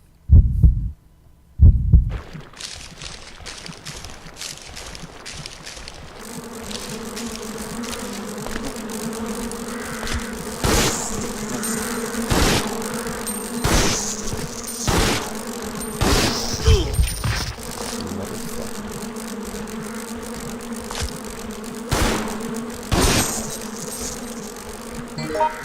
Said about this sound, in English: there's going to be some bees that we're going to be, or wasps that are going to be attacking us